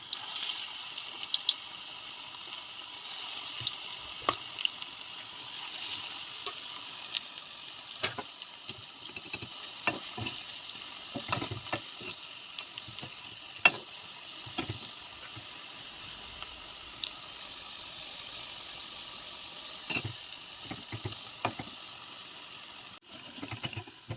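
Pakoras fry in a pan of oil, giving a constant close hiss dotted with scattered pops and crackles that continue steadily throughout, with no voices.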